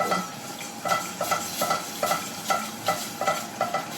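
A whisk works milk into a sauce for lasagne in a pan, repeated scraping strokes in a steady rhythm, close and moderately loud, with a faint sizzle underneath and no talking.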